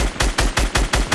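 Rapid automatic gunfire in a video game, about seven sharp loud shots in an even fast rhythm with no talk.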